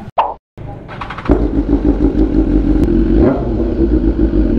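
A BMW S1000R motorcycle engine runs close by, loud and steady after a brief thump and gap, holding a deep rumbling idle with slight surges throughout.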